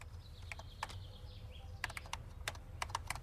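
Typing on a typewriter, a quiet run of sharp key strikes in irregular clusters against a soft low hum, with no voices.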